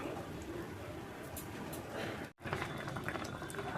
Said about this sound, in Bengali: এবার ঝোলটা বেশ ভালো করে ফুটাবো এক দশ মিনিট মতন ফুটিয়ে নেবো আস্তে জালে